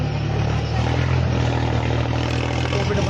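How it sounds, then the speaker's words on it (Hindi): A tractor engine drones close by, a loud, steady low rumble that holds unchanged throughout with no other sounds over it. "अरे बंद कर दे, ट्रैक्टर बंद कर दे 2 मिनट।"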